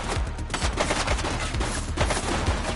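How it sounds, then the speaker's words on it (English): Dense, continuous gunfire from a police action game set in a city shootout, rapid overlapping shots and bursts filling the whole stretch at close range and high loudness, with no talk over it. "He's shooting!"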